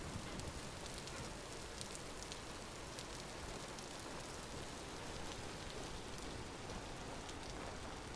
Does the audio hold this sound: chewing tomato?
no